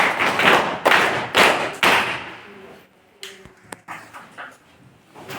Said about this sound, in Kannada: ಅಂತ ಭಗತ್ ಸಿಂಗ್ ಹಾಗೂ ಮಲ್ಲಿಕಾರ್ಜುನ ತಂಡಕ್ಕೆ ಚಪ್ಪಾಳೆ.